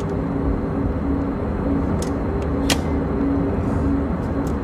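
An aircraft in flight during a crash investigation test flight: a loud, constant cockpit engine and airflow drone with steady low hum, heard from inside, broken by a few faint clicks.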